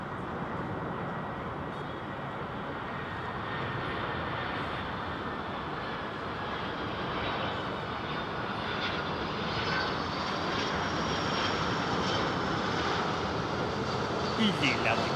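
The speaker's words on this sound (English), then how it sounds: "Jumbo going out." A jumbo jet takes off at London Heathrow Airport, its engines producing a steady, broad roar that builds slightly over the course of the sound, with voices talking in the background.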